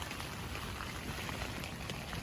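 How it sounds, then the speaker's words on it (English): Rain falling at a carp fishing spot in Kent in February, heard as a soft, even hiss of drops without pause and no speech. "Just waiting for the rain to stop so I can send this out."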